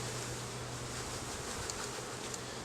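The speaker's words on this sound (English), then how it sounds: "And then we will just take the bees and dump them in." Honeybees from a shipped package tumbling into a hive box, giving a steady, close buzzing drone that continues without a break and with no voices.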